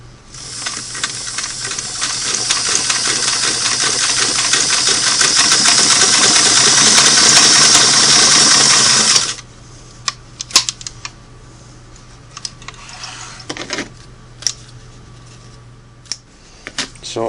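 A Singer Model 338 sewing machine runs a double needle stitch, a fast steady mechanical whir and clatter for about nine seconds before stopping, followed by quiet handling clicks and taps.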